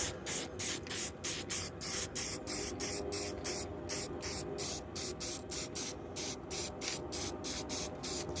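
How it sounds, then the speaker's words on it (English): Aerosol spray paint hissing onto an RC car body in short, regular bursts about twice a second, steady and close, with no speech. "Paint that side a little bit, flip it over here. Hit this side a little bit"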